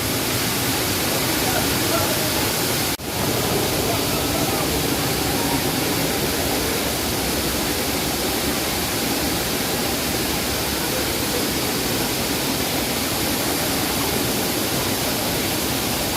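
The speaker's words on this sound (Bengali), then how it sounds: "পাঁচ ফোকর থেকে জল বেরোচ্ছে।" Kasarval waterfall in Goa roars nearby as water gushes through five holes, a loud, unbroken broadband rush that holds steady from start to finish.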